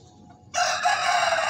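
A rooster crows loudly and close by, a single sustained call starting abruptly after a quiet moment.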